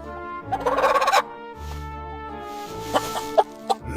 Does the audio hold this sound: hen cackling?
yes